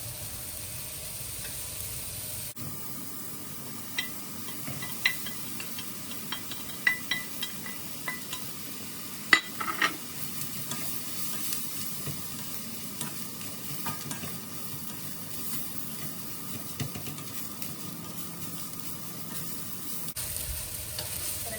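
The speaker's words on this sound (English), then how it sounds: "Make sure the butter coats the rice evenly, or as even as I can." Rice stir-fries in melted butter in a hot pan for char siu fried rice, making a steady low sizzle broken by sharp scraping and tapping clicks from the utensil, with a quieter pause at the start and end.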